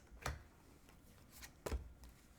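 A deck of Osho Zen Tarot cards being cut and shuffled, two short papery riffles about a second and a half apart, close and quiet, with no voices.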